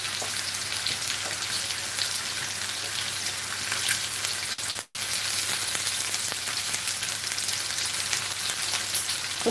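Food frying in hot oil for a French salade royale, a steady dense sizzle and crackle filling the whole stretch, briefly cut near the middle, with no talking.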